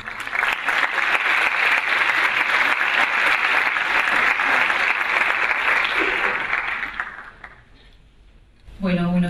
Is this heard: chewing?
no